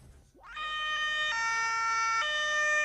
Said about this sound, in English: Sirens blaring, emergency vehicles rush to a Kirkuk hospital